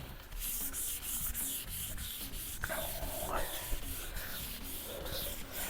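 Resprayed car paint is wet sanded by hand with steady back-and-forth rubbing strokes, close and continuous, soft and gritty.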